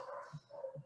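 Dogs bark faintly in the background during a farm technical talk on alfalfa, two muffled yaps about half a second apart over steady room noise.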